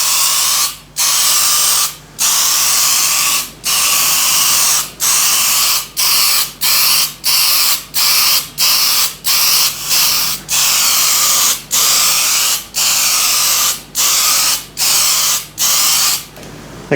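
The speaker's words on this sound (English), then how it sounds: "need about 3 coats of a spray putty" High-build spray putty filler sprayed from an aerosol can onto a 3D-printed pattern in a workshop, heard as about fifteen loud, steady hissing bursts of one to two seconds each, separated by brief pauses, with a faint low hum beneath.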